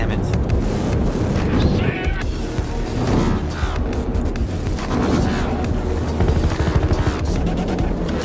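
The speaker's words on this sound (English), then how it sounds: "Officer, suspects have a transport chopper." A transport helicopter in the video game Battlefield Hardline thrums as a steady, loud rotor roar through a conquest match, mixed with explosions and gunfire, and a player talks over it.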